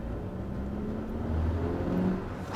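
An old Bentley engine rumbles steadily from inside the car while driving, a continuous low drone that swells slightly midway under faint road noise.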